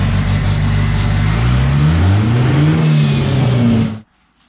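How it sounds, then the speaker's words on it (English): A black Ford Mustang's engine runs loud and close, a steady throaty drone whose pitch swells and dips through a rev before cutting off abruptly into near silence. "The black Mustang is running."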